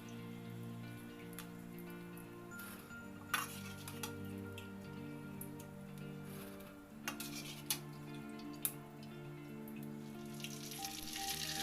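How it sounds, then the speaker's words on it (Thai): Pork rinds frying in hot oil, with a continuous fine crackling sizzle throughout, a low steady hum beneath it, and a few sharp clinks of utensils against the pan. "ทอดจนฟู ทุกเส้นแบบนี้นะคะ"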